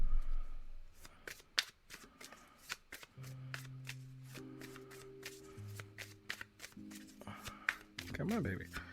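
An oracle card deck being shuffled by hand, a rapid series of crisp riffling snaps repeated throughout, close, with a low hum and musical tones underneath.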